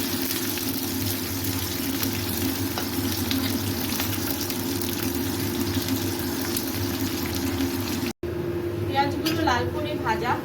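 Bay leaves and chopped onion fry in oil for a Chitol fish dish, a steady close sizzle filling most of the clip, followed after a brief cut by softer crackling and a faint voice.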